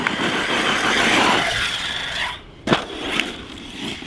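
An ARRMA Talion 6S RC car from 2018, running on 4S with a 16T pinion, drives past with a steady electric motor whine and tire rush that fades, followed by a sharp knock and renewed whirring.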